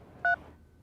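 A single short dual-tone phone dialing beep, clear and close, over a quiet low background hiss.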